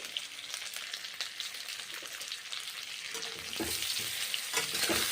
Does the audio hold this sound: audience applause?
no